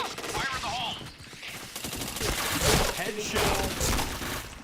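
Rapid bursts of gunfire ring out in a first-person shooter video game, sharp shots and a breaking crack layered over busy in-game noise, with a player talking in the background.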